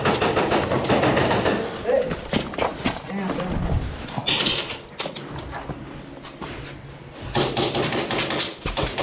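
Airsoft rifles and pistols chatter in rapid bursts during a capture-the-flag game at an outdoor field, close clattering volleys with players calling out over the shots.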